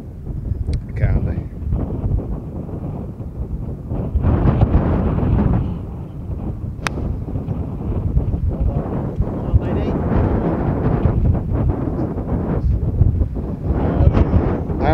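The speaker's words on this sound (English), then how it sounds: "The wind's really just picked up" Strong wind on a links golf course at Royal Lytham, a continuous heavy roar buffeting the microphone in gusts across the whole stretch, with a few faint voices underneath.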